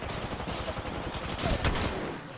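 A steady stream of rapid automatic gunfire in an Apex Legends match, close and continuous for a couple of seconds with a brief louder burst in the middle.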